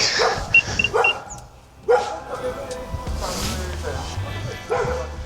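A dog barks and yips several times in short bursts amid people talking, with background commotion.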